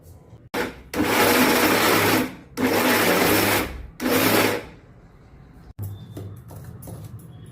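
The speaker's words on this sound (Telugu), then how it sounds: "ఇప్పుడు ఇది గ్రైండ్ చేద్దాం." A mixer grinder grinds mutton kheema with onions in three loud, whining bursts separated by brief pauses, then falls to quieter clatter of handling the jar.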